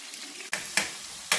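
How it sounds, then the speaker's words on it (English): Peppers and onions sizzle faintly in a pan, with a few sharp scraping bursts as they are stirred. "everything is sizzling pretty good now"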